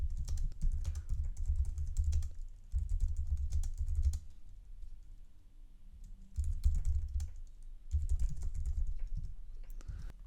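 Rapid clicks from a computer keyboard come in two bursts with a short pause between, close and clear in a quiet room, with no one talking.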